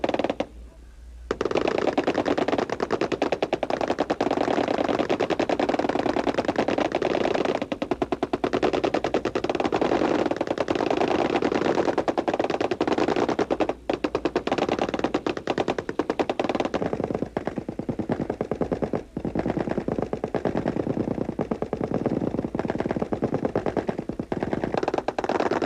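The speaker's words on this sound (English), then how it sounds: "One of the treats we all have is waiting for the firing of the M60 machine gun." An M60 machine gun fires at an army training range, sustained loud automatic bursts rattling almost without pause for over twenty seconds, with only brief gaps between strings of rapid shots.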